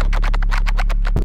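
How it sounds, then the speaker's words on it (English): A loud, gritty jump-up drum and bass wobble bass rapidly wobbles in a fast rhythmic pulse over a deep low end, then cuts off abruptly. "So the first phrase of basses sounds like this."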